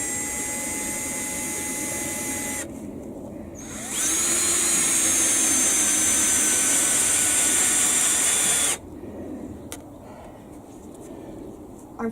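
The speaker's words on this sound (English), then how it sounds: "That's going to fall off as I drill." A power drill whines loudly and steadily close by while boring during a garden build of fence, deck and path, its pitch shifting and jumping to a harder, louder load for several seconds before easing back.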